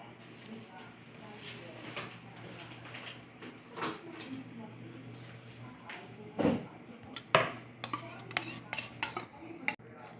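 Fruit salad being mixed with fruit cocktail in a bowl, with repeated clinks and scrapes of a utensil against the bowl under a steady background hum, while a person talks intermittently.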